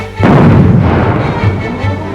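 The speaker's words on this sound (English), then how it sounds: "sentries observe a simulated nuclear explosion" A simulated nuclear explosion: a deep, rumbling boom rolls out suddenly and lingers as a long, heavy low-frequency roar that slowly fades.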